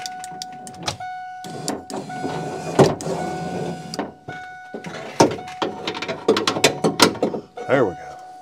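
An electric power window on a bus is lowered during a window regulator replacement, its motor whirring in bursts amid clicks and clanks of mechanism work, with someone talking throughout.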